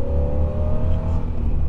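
A deep, steady exhaust rumble from a 1987 Chevrolet Camaro IROC-Z with a Hooker exhaust, low and throaty, holding a constant idle-like drone close by.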